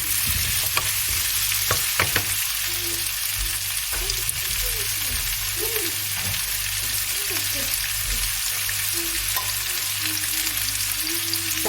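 Chicken breast fillet and colourful bell peppers frying in a pan while being mixed, a loud continuous sizzle with scraping stirs; a faint voice or hum murmurs underneath.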